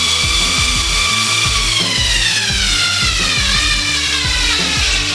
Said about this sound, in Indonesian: kita bisa masukkan dengan menggunakan obeng sesuai kebutuhan